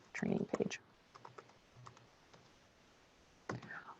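Computer keyboard typing in short bursts of quick clicks, a tight cluster at the start, a few scattered taps, then another run near the end, quiet and close in a still room.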